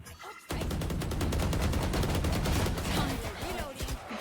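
Rapid automatic gunfire from a shooting video game rattles in a dense, sustained burst lasting several seconds, loud and close, starting abruptly after a short quiet moment.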